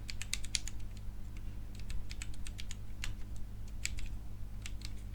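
Computer keyboard keys clicking in bursts of rapid typing, with repeated presses of the Enter key, close and fairly quiet over a low steady hum, no voices.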